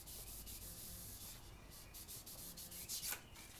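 Something rubs along a Harley-Davidson motorcycle fork tube to clean off small burrs before a new fork seal goes on. The scrubbing is close, continuous and steady, growing slightly harsher near the end.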